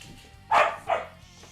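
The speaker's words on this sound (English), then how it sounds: "my dog is serenading the stream" A pet dog barks twice in quick succession, close and loud, over faint background music, with quiet between the barks and afterward.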